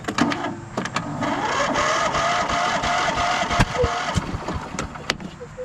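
A Briggs v-twin engine with a bent push rod running rough, a steady uneven idle with irregular clattering knocks and sharp ticks throughout, close and fairly loud with no talk.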